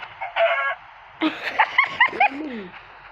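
A series of clucks and squawks from a chicken in the Minecraft-style game One Block, several quick calls in a row, loud and close.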